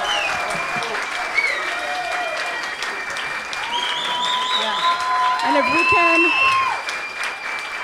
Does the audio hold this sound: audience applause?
yes